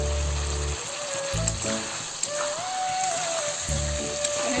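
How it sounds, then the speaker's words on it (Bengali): Potatoes, plantain and pointed gourd sautéed in oil and cooked-down spice paste, a steady close sizzle and crackle with brief pauses, under a faint tonal hum. "সবজিগুলো ভালো করে কষাই নেব।"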